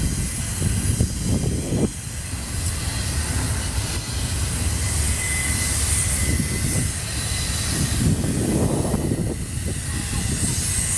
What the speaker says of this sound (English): Excuse the noise, but we got the train right here next to me.